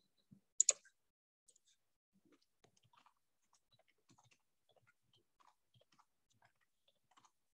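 A computer mouse clicks a few times while working in asset expense software, with one sharper close click near the start followed by faint, scattered soft clicks in an otherwise quiet room.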